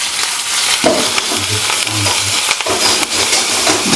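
Steady, close sizzling and crackling of turmeric and homemade garam masala frying in hot oil, with a few stirring scrapes along the way and no voices.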